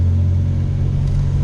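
A 1987 Chevrolet Opala Diplomata engine with its original exhaust idles close by in a steady, deep rumble, with no voices over it.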